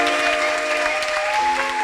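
An audience of parents claps for students at a school Easter music concert, sustained applause with a faint steady tone running underneath.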